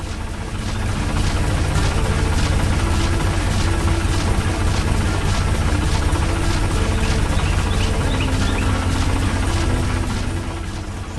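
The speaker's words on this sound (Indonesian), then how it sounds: "Suara mesin dan gerakan yang dinamis." Machinery runs in a busy animated factory with a moving conveyor belt, giving a loud, steady, low mechanical rumble with a fast repeating pulse. It fades in at the start and holds throughout without speech.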